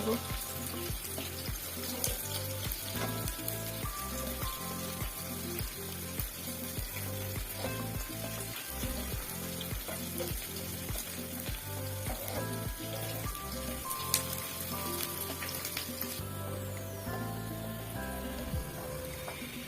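Dried chili, onion and garlic fry in oil in a pan, a steady close sizzle with rhythmic scraping and stirring knocks running throughout, and a voice faintly present now and then.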